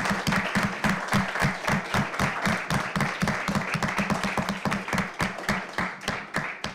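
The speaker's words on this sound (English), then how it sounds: "Give yourselves a round of applause." Water polo team and audience applaud together in a steady burst of many hands clapping, dense and close throughout with crisp individual claps standing out.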